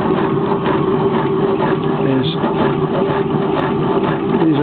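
A hot air engine built by Alan Pickering runs steadily, its linear bearings shuttling up and down on rail-like tracks with a continuous clattering mechanical drone, loud and close throughout.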